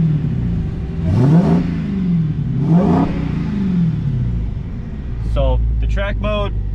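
A Dodge Challenger Hellcat Redeye Widebody engine in track mode revs hard twice, each surge climbing and falling back, then a burst of sharp, quick throttle blips at the end.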